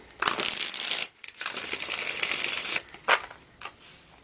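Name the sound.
shuffling tarot cards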